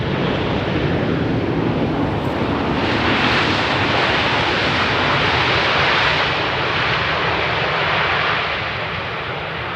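Airplane arriving on runway 18R at Amsterdam Schiphol Airport, a loud, steady roar of jet engines heard from nearby, with heavy wind noise and no talking.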